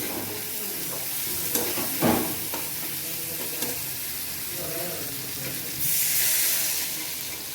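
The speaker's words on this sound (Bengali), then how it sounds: "ঝোল দিয়ে দিচ্ছি।" A kakrol curry's fried spice mix sizzles in the pan, with a few stirring scrapes, then broth is added and a sudden louder hissing surge of steam takes over near the end.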